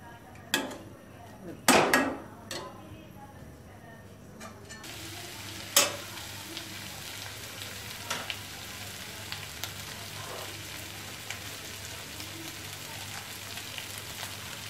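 Mushrooms sauté in a pan for a chukka varuval, with a few sharp spoon clanks and stirring scrapes near the start, then a steady low sizzle that continues with occasional light taps.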